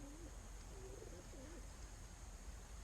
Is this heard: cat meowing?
no